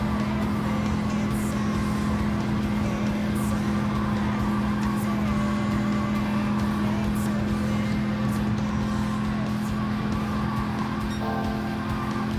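Racing car engine in Gran Turismo 7, drafting in the slipstream close behind another car: a steady, loud, unbroken drone held at constant revs for the whole stretch.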